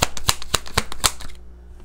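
A deck of Mystic Monday tarot cards is shuffled up close: a quick run of sharp, crisp riffling snaps, six or so in a rough rhythm, ending abruptly into near silence.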